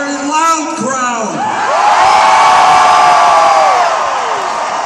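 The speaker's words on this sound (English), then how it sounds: "And a very loud crowd." A packed Bernie Sanders rally crowd in the Albany armory roars and whoops, swelling into a sustained loud cheer after a few seconds of shouting voices.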